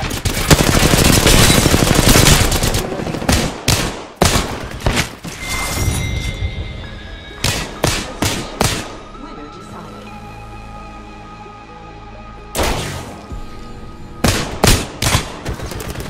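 Gunfire in Apex Legends, loud close bursts of rapid automatic fire followed by scattered single shots and short volleys separated by brief pauses, with faint lingering tones between, and no talking.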